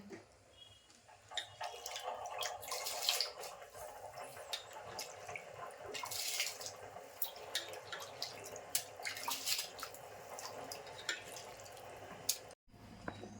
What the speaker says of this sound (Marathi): आता मी ना तांदूळ टाकून घेते